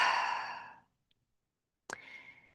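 A yoga practitioner exhales through the mouth in a long, soft breath that fades over most of a second, then silence, then a short sharp intake or puff of breath followed by a faint airy tail.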